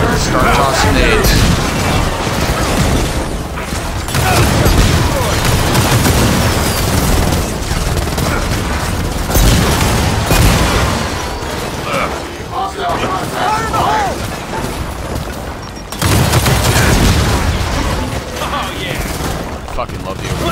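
Constant heavy gunfire and booming grenade explosions in a firefight in the video game Gears of War 4, loud and dense throughout, with voices shouting over the battle.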